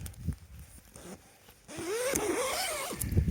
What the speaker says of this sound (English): also note the zipper there